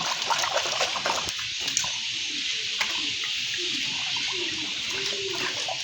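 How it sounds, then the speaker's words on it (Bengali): Molasses stirred by hand into water for goat feed gives a steady close-up sloshing and trickling wash with small splashes throughout. "চিটাগুড়গুলো একবারে মিক্সার করে দেবো পানির সাথে"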